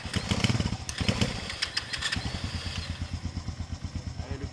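A motorcycle, a Chinese copy, starts up with the choke on, sputtering into a rapid, uneven exhaust putter close by, with a burst of revving early on before it settles into steady pulsing.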